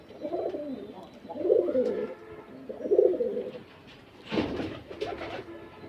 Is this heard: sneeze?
no